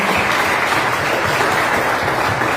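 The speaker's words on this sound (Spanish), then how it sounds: "Dale un aplauso fuerte al Señor" A church congregation claps loudly together in steady, dense applause that fills the whole stretch, with no talk over it.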